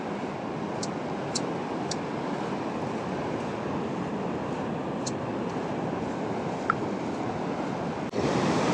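Ocean surf washes onto a beach on the Oregon coast in a dense, constant roar with a little wind buffeting, broken only by a few faint clicks and a brief thump near the end.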